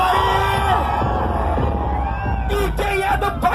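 A New Year's Eve party crowd in Irituia, Pará, with a big sound system, shouts, whoops and cheers loudly together in bursts, with amplified voices in the mix.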